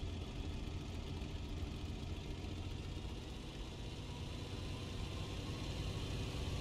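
Engine of a Bf 109 K4 fighter plane in the video game IL-2 Sturmovik VR runs at a steady drone, dense and even throughout, with no speech over it.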